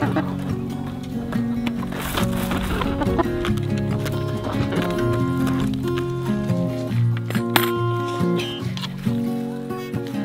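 A busy farm flock of chickens clucking and murmuring, with overlapping bird calls and background voices talking throughout.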